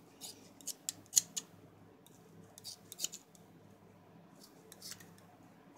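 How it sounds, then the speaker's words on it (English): Scissors snip foam to trim a squishy. Quiet, crisp cuts come in short clusters of several snips with pauses between them, close up, and no one talks. "just keep snipping piece after piece after piece so you can get the roundest shape you can get"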